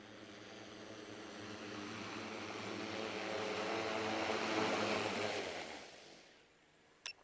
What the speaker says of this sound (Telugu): డ్రోన్ని మనం ల్యాండ్ చేసుకుందాము